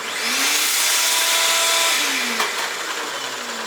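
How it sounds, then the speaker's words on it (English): A shop vacuum runs at a Bridgeport milling machine with a steady, loud whooshing roar that holds throughout, with a faint mechanical whine underneath and a brief click near the end. "Okay, hit the vacuum"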